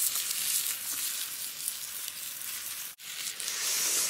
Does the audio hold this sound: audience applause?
no